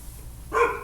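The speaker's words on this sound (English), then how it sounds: "if the dog barks too long" A dog gives a single short bark, close and fairly loud, after a moment of quiet background hum.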